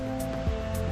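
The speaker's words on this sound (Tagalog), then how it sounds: "rinig natin yung ingay ng falls" Steady rushing water roars continuously, like a waterfall heard fairly close, with a faint low hum underneath.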